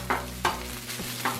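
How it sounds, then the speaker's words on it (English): Fried rice with lap cheong sausage sizzles in a hot pan while a utensil scrapes and stirs it in a few quick strokes, close and fairly loud. "Frying up our rice a little bit more."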